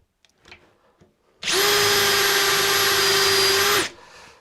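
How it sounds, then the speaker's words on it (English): A power drill bores a hole into an ash nut bowl on the lathe, starting abruptly and running at a steady loud whine for about two and a half seconds before cutting off. "So I'm just going to drill."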